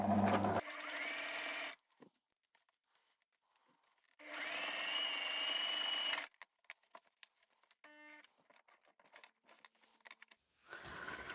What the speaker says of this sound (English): I will actually just hand crank over the bulk of the seam here